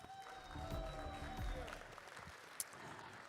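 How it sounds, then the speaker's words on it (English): Guests at a game launch party in a Dubai ballroom give a faint, distant round of applause. It swells briefly and then thins out, with a steady tone in the room behind it. "can I ask you to prove that this joy of meeting is absolutely mutual with your vigorous applause"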